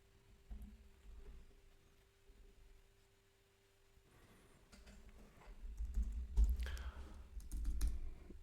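Typing a username on a computer keyboard during a Linux Mint installation, faint at first then louder irregular key clicks in quick bursts, with soft low thumps beneath, close and quiet.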